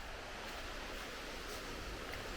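A continuous wash of ocean surf during Hurricane Fiona at Holland Cove, Prince Edward Island, a broad hissing roar with no distinct breaks and no voices.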